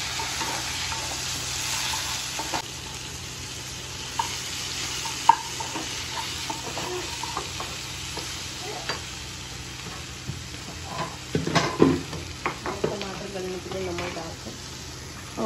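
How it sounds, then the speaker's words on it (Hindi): Onions browning in a pan, frying with a steady sizzle while a spoon stirs and scrapes them in bursts, sharper clatter near the end; no talk. "अच्छा आप इतना ब्राउन करते हो प्याज"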